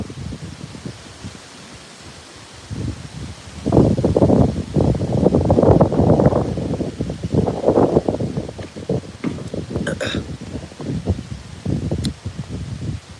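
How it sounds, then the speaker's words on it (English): Gusty wind blows outdoors at a pond, a broad rushing roar that swells and drops in loud surges with rustling noise against the microphone, with no talking. "it's so windy out right now"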